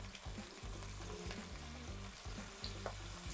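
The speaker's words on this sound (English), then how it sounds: "So I'm just turning these so that every side gets a good sear." Short ribs sear in a hot pan with a continuous crackling sizzle and occasional stirring scrapes, close and steady, over a faint low hum.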